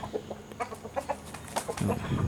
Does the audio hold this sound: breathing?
no